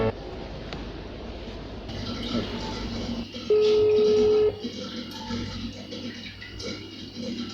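A telephone line is dialed to place a call, a steady tone holding for about a second amid background studio noise, with no talk during the tone.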